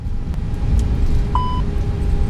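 A320 thrust reversers during landing rollout in X-Plane 11, a steady loud rumbling roar of engine and runway noise with a short beep tone sounding over it.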